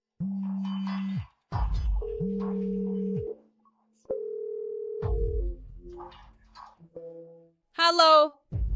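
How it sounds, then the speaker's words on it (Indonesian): A telephone call is placed, with a sequence of steady electronic tones and beeps of differing pitch, broken by brief pauses, then a short higher tone near the end. "Saya akan telepon untuk bertanya sekarang juga."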